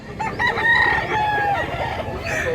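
A prized rooster crows loudly and close in one long drawn-out call of rising and falling tones, with faint farmyard background noise.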